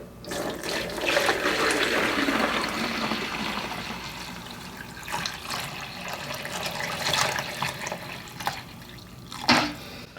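Liquid poured through strainers into small bowls, a steady trickling and splashing stream that swells early, thins into intermittent drips and dribbles, and ends with a brief louder splash.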